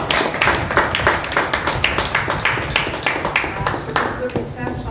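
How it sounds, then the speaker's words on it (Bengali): An audience at a foundation day event gives rhythmic, sustained applause, with dense claps repeating steadily throughout and loud, close to the listener. "তো ওনার সম্মানার্থে একটু করতালি হয়ে যাক"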